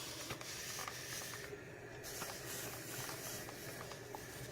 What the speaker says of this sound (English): Keep steaming the toe box. This towel is damp, by the way.